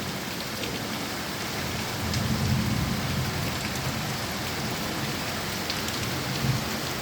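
Heavy monsoon downpour in Sylhet, a dense, unbroken roar of rain on surfaces heard from indoors, with a low thunder rumble swelling briefly near the middle, and no talking.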